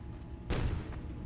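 A grenade blast in the Summer Skirmish 2022 video game, a single dull low thud with a short boom that fades under a quiet game background.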